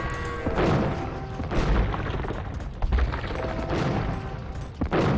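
In Age of Empires II, a castle crumbles under bombard cannon fire: repeated heavy cannon booms and crashing impacts roll over a steady battle din, loud and closely spaced, without talk.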